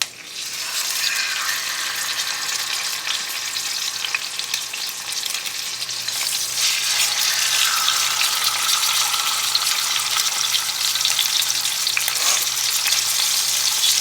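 Fish sizzle and crackle in hot oil in a pan, a loud dense frying hiss that swells stronger partway through and carries on steadily, close up with no talking.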